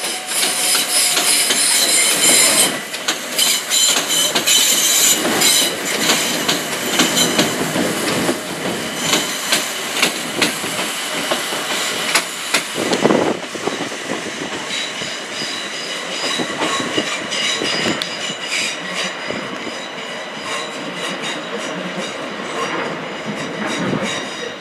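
Trains rumble through Willesden Junction in a loud, continuous wash of rail noise, with wheels clattering and squealing on the tracks throughout and no talking.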